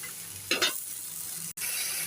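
Ground turmeric and coriander powder fry in a pan for a fish-head curry, giving a soft continuous sizzle with a brief scraping stir near the start and a sudden momentary dropout before the sizzle resumes.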